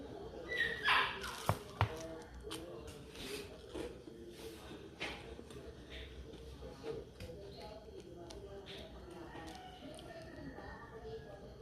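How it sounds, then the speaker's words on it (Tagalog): A dog barks and yips a few times, sharp but not very near, under a person talking quietly at home over breakfast. "May maingay na aso."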